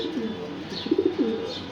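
A racing pigeon coos briefly and softly nearby, a few low throaty notes in quick succession.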